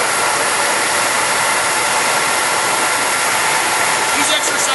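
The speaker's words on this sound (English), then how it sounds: "He's exercising a heavy-duty table with a 36-inch wide knee, showing the power feed and power rapid traverse in all directions." A Cincinnati 550-20 VersiPower horizontal milling machine runs its power feed on a heavy-duty table, giving a loud, steady, unbroken whirring hiss from start to finish.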